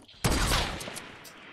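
Gunfire in the video game Fortnite, a sudden loud burst of shots that breaks in sharply and then trails off with fainter crackling afterward.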